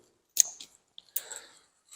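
Old scissors bought in 1997 snip while making a basket planter box, giving two or three short, crisp cuts separated by silence in a quiet room.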